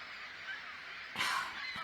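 A bird honks like a goose in the video game Syberia, a short nasal call bursting out near the end over a quiet ambient hum, with a faint second honk just after.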